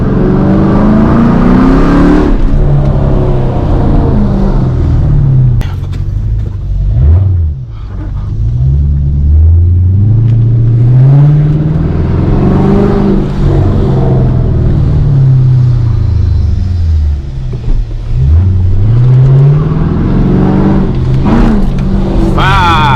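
A Hemi-powered car revs hard while sliding sideways on an early-morning street. The loud engine rises and falls in repeated surges throughout, with occasional voices mixed in.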